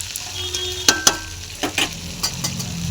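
Cauliflower and flat beans are stirred in a frying pan, with a steady soft sizzle broken by a few clicking taps and scrapes of the spoon against the pan.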